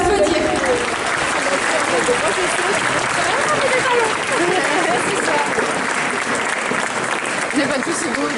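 An audience at a cosplay contest in Wesserling applauds the participants with sustained, even clapping throughout, and faint crowd voices mix in underneath.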